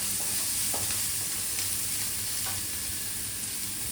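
Onion and chili frying in a hot pan with a steady, close sizzle and faint spatters, no voices over it.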